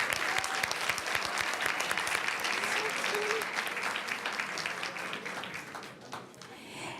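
Warm audience applause breaks out at a school board meeting, full and sustained from a roomful of people, then gradually thinning and fading toward the end.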